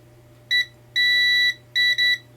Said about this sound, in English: I'm going to check to see if there's continuity.